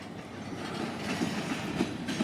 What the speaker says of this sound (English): You want to see some trains, you come to Avondale.